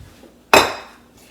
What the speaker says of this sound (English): So I just grabbed a plate and I'm just going to flip it over.